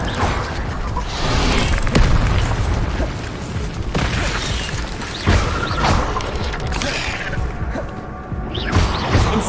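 Incendio fire spells cast in rapid succession during Hogwarts Legacy combat, with repeated whooshing bursts and booming impacts layered over dense, loud battle noise.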